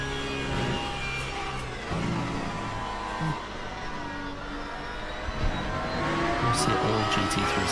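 GT3 race cars at Imola in a racing video game, a continuous loud engine drone with shifting revs and gear changes, occasional passing cars.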